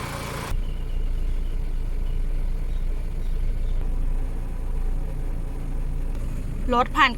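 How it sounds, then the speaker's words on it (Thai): A 1996 Mitsubishi Galant Ultima engine runs with the A/C compressor engaged after a refitted R134A system, producing a constant low drone that starts abruptly. A brief voice is heard near the end. "เสียงเครื่องยนต์ ขนาดคอมทำงานนะคะ"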